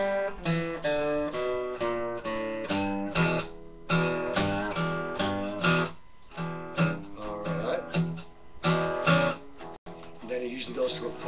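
A guitar plays a slow 12-bar blues in E, with steady strummed chords and single-note lines in a loose, even rhythm, close and fairly loud, with no voice over it.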